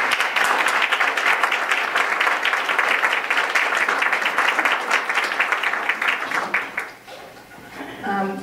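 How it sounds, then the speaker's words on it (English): Audience at a nonprofit governance seminar applauding, dense sustained clapping for about seven seconds that fades out, with a voice briefly speaking at the end. "join me in a round of applause for Mike Smith"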